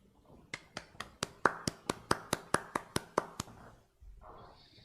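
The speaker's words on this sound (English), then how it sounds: "Clap, clap." Hand clapping, about thirteen sharp, evenly spaced claps at a steady moderate pace, close and fairly loud, followed by a brief quiet pause and a faint voice afterward.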